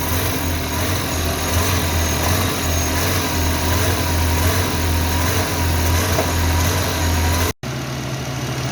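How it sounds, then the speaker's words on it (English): A 2019 Toyota Camry Hybrid (model AXVH71R) with its A25A-FXS engine runs at a steady, fairly loud idle after an injector cleaning. The low hum holds evenly throughout, then cuts out briefly near the end. "So we start the car."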